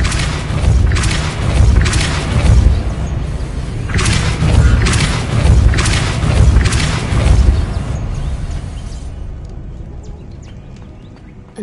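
The Depulso spell is cast in Hogwarts Legacy, a series of heavy booming thuds and crashes at a fairly even pace. The blows fade out near the end into quiet clicks.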